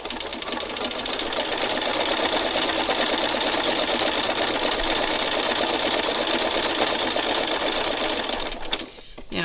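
A sewing machine stitches steadily along the edge of a postcard, a fast continuous mechanical whirr with rapid needle ticking that holds close and loud before stopping abruptly near the end.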